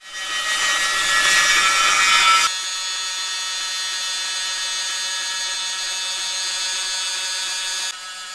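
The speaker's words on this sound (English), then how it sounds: "So just trimmed the first edge." Power tool trimming the edge of a homemade ski, a loud steady high-pitched whine with a harsher cutting bite at first, then a continuous buzzing drone that drops off near the end.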